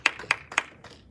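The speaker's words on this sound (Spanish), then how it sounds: "Démosle palmas al Señor" A church congregation claps hands in three sharp, evenly spaced claps about a quarter second apart, followed by a softer trailing clap.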